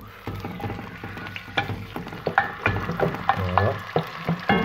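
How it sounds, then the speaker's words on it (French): Chicken bones and skin drop into hot virgin oil in a cast iron pan, setting off a close, steady sizzle and crackle broken by repeated clinks and scrapes of stirring, with no talking. "J'ai pris une casserole en fonte, on va mettre de l'huile vierge. Une fois monté un peu en température, on met les os."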